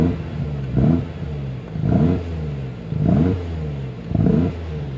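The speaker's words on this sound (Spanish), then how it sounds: "lo vamos a acelerar un poquito para que escuchéis vosotros también el sonido" A 2021 BMW M8 Competition in M-Mode with sport exhaust valves open revs four times in a steady rhythm, each loud throttle blip rising and falling back to a rumbling idle, close and with no voices.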